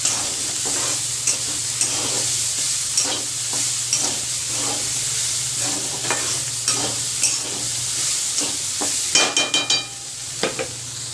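Fried corn kernels being stirred with red chili powder in a hot pan, a steady close sizzle with repeated scraping stirs and a quick burst of clinks near the end.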